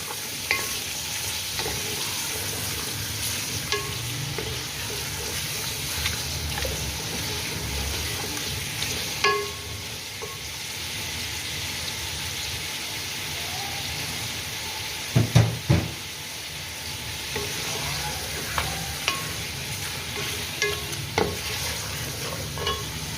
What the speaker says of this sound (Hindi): जब चिकन डालेंगे ऑयल में तो ज़रा छींटे जो हैं वो बाहर को आएंगी